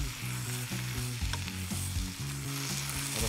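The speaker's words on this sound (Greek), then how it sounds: "Και θα ανακατέψω λίγο ακόμα. Θέλω να ανακατευτεί ο πελτέ ντομάτας." Pork roast with tomato paste sizzles and fries in a pot while a spoon stirs it, giving steady close crackling with repeated scraping strokes and no voices.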